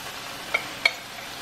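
Corned beef, cabbage and potatoes cook slowly in a pot, giving a soft steady simmer with two brief clinks of a utensil against the pot, close by and alone.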